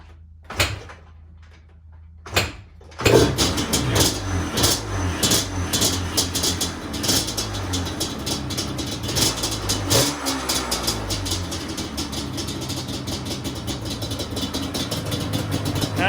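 A 2002 Yamaha Banshee, not run in years, cranks after a couple of sharp knocks, then catches and runs with a rough, busy two-stroke idle that stays loud and close throughout.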